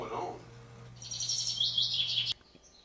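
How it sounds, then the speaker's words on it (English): Several birds chirp and tweet steadily in high, bright bursts over a low constant hum, after a brief murmur of voice at the start; the sound cuts off abruptly near the end. "We came back and all we heard was this birds."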